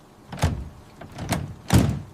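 Three thuds of a vehicle door shutting and latching, probably an ambulance, spaced about a second apart at close range with no talk.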